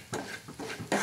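A spoon scrapes and stirs salt into a spice mixture in a pan for a bottle gourd dish, making several short, soft rasping strokes close by.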